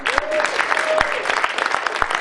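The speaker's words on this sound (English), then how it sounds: "big round of applause to yourselves" Crowd at a live comedy show clapping for themselves, a brisk burst of many hands with a few sharper individual claps and a faint whistle, close and lively for a couple of seconds.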